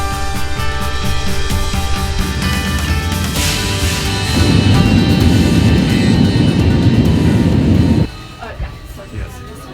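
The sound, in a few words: airplane flight noise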